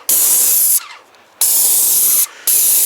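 Aerosol finish hisses in two loud, sharp-edged bursts with a short pause between, sprayed up close onto a hardwood butterfly.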